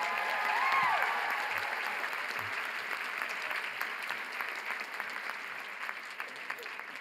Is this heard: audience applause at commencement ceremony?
yes